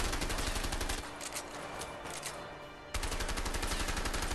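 Relentless rapid automatic gunfire in the action game A Way Out, a dense, loud stream of shots that briefly thins in the middle before resuming at full intensity.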